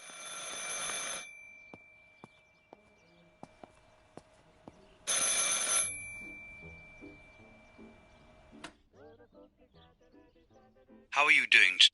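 An old telephone bell rings in two loud bursts in the Martha Is Dead video game, separated by quiet stretches with faint clicks, followed by brief muffled voices and a sharp closing burst.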